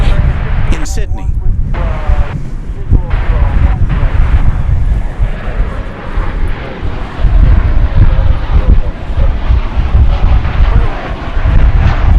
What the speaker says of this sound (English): you have just seen Flight 2385 coming in from El Paso